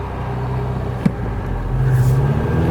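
A Ferrari 488 Spider rolls at low speed around town in auto mode, a low steady engine rumble with a faint tonal drone rising near the end, heard from inside the car with a single knock partway through.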